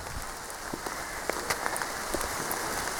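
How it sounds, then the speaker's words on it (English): Heavy rain pours down on a woodland and field walk in the Quantock Hills, a dense steady hiss broken by scattered close drips and patters. "And the rain is really coming down now."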